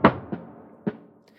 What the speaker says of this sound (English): I also use a little fill towards the end of each sort of section